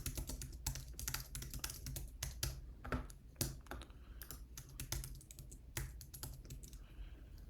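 Rapid, uneven key clicks from a computer keyboard as a sign-up form is filled in, close and continuous with small pauses between bursts.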